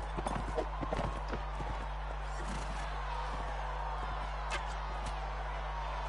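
Rhythmic hoof clatter of a galloping horse in the video game Mount & Blade: Warband, with a steady low hum underneath, fairly close and continuous throughout.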